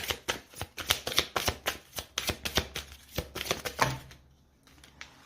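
Oracle cards riffled and shuffled by hand, a close run of quick crisp flicking bursts in an uneven rhythm that stops abruptly, followed by quiet.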